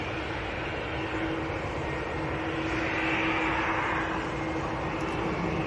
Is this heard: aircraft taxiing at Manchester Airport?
yes